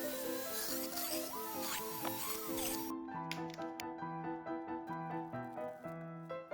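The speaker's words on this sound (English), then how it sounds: "I really like that clicking sound" Small sharp clicks and light taps of magnets snapping together, repeated several times close up, with faint handling noise between them.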